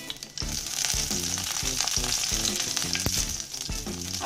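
Bay leaf dropped into hot refined oil in a pan gives a steady, close sizzle with soft rhythmic thuds underneath, no voices.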